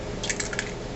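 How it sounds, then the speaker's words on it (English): Eggs are cracked into a bowl: a quick cluster of close, crisp shell cracks and taps lasting under half a second over quiet room hiss. "Alright, so we crack our eggs."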